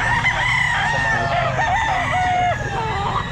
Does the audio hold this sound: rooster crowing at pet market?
yes